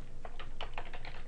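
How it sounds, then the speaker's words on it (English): Computer keyboard keys tapped in a quick run of about eight close, crisp keystrokes while an address is typed in, with a faint steady hum behind. "you would type in the address of the"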